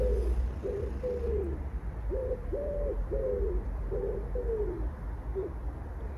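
A pigeon coos in a repeated series of soft, low calls with short pauses between them, steady and fairly close against a constant low outdoor rumble, with no one speaking.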